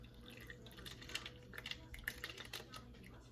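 Rosemary-infused olive oil mixture poured slowly into a bottle, a faint, quiet trickle with light irregular drips and ticks against a low background hum.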